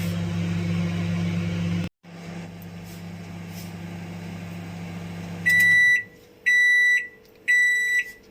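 A microwave oven hums steadily while heating homemade craft clay for 30 seconds, the hum briefly cutting out, then stopping before three loud, evenly spaced beeps ring out close by.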